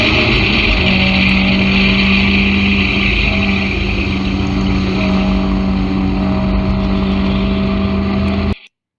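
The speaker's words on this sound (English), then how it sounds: "As you hear me accelerate" A car engine sounds loud and sustained through a corner, with a steady droning tone and a broad roar that hold for about eight seconds before stopping abruptly.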